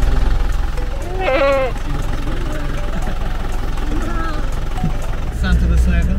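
Bearded goats bleating on a farm in Madeira, a wavering cry rising clearly over a steady engine idle and outdoor background, with people talking nearby.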